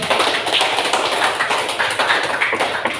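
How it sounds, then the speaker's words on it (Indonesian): A classroom applauds, a quick run of dense, close clapping that holds steady for a few seconds, with no talk. "Beri aplaus dulu."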